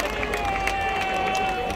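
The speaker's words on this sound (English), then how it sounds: "A rock festival" A crowd at an outdoor rock festival makes a steady wash of distant murmur and scattered shouts, with a sustained tone running underneath and no single voice standing out.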